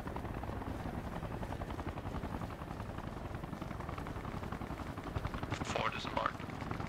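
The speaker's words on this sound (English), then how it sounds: "northwest is a heli drop" Helicopter rotor chop from the video game Arma Reforger, a steady dense thumping that fills the whole stretch at moderate level, with brief bursts near the end and voices faintly mixed in.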